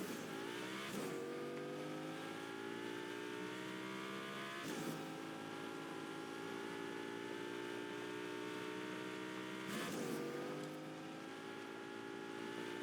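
A car engine in a Fortnite race revs and accelerates steadily, with rising pitch sweeps broken by brief gear-shift drops, loud and continuous with no talk.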